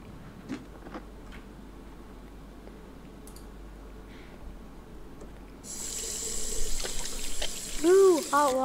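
A hot water tap running in the Captain Spirit video game: a steady, moderately loud gush of water into a sink that starts partway through, followed by a brief bright chime, with faint background sounds before.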